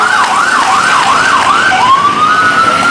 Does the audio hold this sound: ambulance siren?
yes